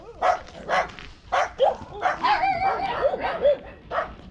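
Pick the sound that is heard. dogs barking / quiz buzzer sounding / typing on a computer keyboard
dogs barking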